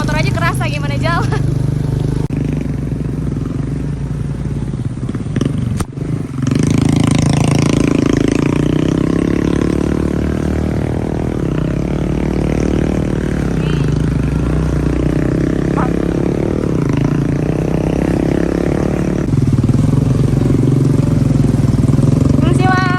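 Motorcycle engine running steadily on the ride up toward the first post of Mount Raung, around 900 m elevation, a continuous low drone with mild rises and dips, heard alongside wind and occasional talk.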